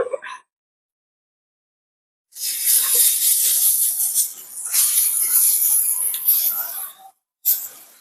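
Cowpea dosa batter hits a hot griddle in a village kitchen, bursting into a loud, close hiss that swells for several seconds, dips briefly, resumes and then ends with one short final burst after near silence.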